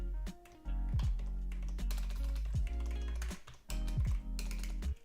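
Quick taps on a laptop keyboard come in short bursts of clicks with brief pauses between them, close and fairly quiet.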